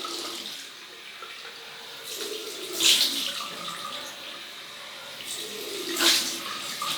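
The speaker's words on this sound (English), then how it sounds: "Cold water rinse." Cold water runs from a tap for a rinse, a soft steady trickle with two brief louder splashes as the flow is disturbed, close by and alone.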